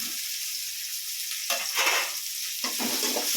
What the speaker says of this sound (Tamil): எண்ணெய் ஊற்றி அப்புறம் பூண்டு வெங்காயம் போட்டுக்கிறேன்